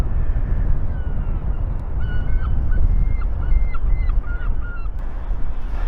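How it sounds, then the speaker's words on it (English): Seagulls flying past near boats by the English coast, several birds giving repeated short cries in a loose series over steady wind and water noise. "a whole load of seagulls coming past"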